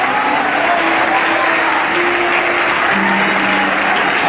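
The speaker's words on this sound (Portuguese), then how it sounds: "E eu quero ouvir palmas misturado com glória a Deus." A church congregation claps together in a steady, dense burst of applause, loud and continuous, with faint voices calling out beneath the clapping.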